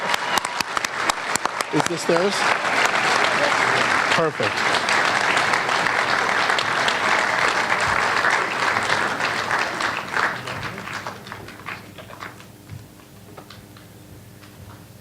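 Applause from an award ceremony crowd for a film winner rolls on steadily and then fades out gradually, while a person speaks briefly over it near the start.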